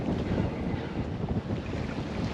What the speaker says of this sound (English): It's like breeze kind of popped up out of nowhere.